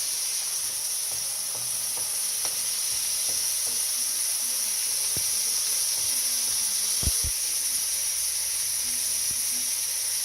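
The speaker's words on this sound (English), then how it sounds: "You can see the white, that's water steaming and boiling off." Constant bright hiss of water sizzling and steaming off in hot oil while cooking fried rice, steady and close, with faint occasional pops and clicks.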